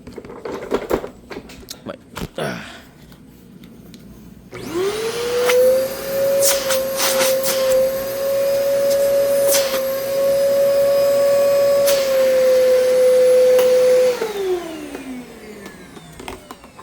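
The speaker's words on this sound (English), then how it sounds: "So let's just see how much suction this has." A Bissell vacuum cleaner switches on after some handling noises, spins up to a loud, steady whine that holds for about ten seconds, then winds down as it is shut off.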